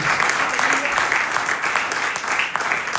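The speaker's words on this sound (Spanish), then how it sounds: "Alguien le dio un aplauso al Señor Jesucristo en esta noche." A church congregation at a Holy Communion service applauds in a continuous, full wash of clapping that stays steady and fairly loud for the whole stretch, with faint crowd voices underneath.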